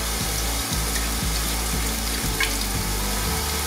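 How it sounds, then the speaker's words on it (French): Wine is poured into a pan of frying onions while making choucroute garnie, producing a loud, continuous close sizzle with the wash of pouring liquid running through it. "Je vais déjà mettre le vin. Je vais mettre un petit demi-litre."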